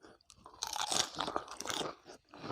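Crunchy jellyfish, eaten wrapped like a miang with a spicy seafood dipping sauce, is chewed close to the mouth: a run of wet, crisp crunches and bites after a brief quiet start, with no talking.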